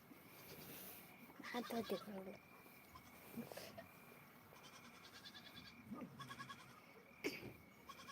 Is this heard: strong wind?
no